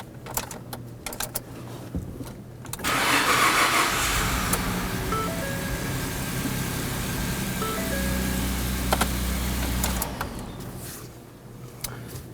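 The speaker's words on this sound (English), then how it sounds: "you can go ahead and try and start the engine" Ford F-150 pickup, 2009-2014, with a 3.5L V6 engine cranking and catching, then settling into a steady idle with a faint tonal whine. It ends by shutting down, close up with no talk.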